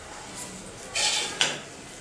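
Capsicum curry is stirred in a metal pan, with a soft scrape of the spoon, then a short metallic clatter and a sharp clink as the lid goes on, close and clear with no talk.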